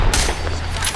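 A short burst of rapid gunfire from a multiplayer shooter rattles loudly for about a second over dense in-game background noise.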